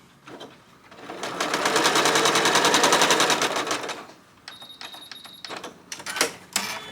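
A sewing machine stitches quilt pieces for a Christmas mug quilt, its needle running in a steady, loud rapid rattle for a few seconds, then slowing into short bursts and stops with faint clicks.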